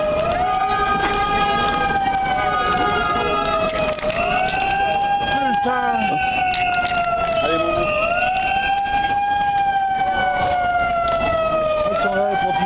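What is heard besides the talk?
fire engine sirens at a street rally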